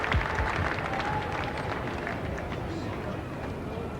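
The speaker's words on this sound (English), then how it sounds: "A generous round of applause." A cricket crowd applauds a batsman after a gutsy innings of 71, giving a steady wash of distant clapping with crowd murmur and talk over it.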